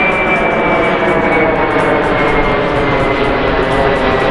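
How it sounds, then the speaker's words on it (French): Airplanes pass low overhead near a beach in Antalya, a loud continuous jet engine roar filling the whole stretch without letup. "Avec les avions, regarde, qui passent juste dessus comme ça."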